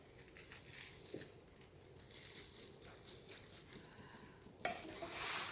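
Food ingredients mixed in a bowl, soft scraping and crinkly stirring strokes at a low level, ending with a louder clatter and rustle.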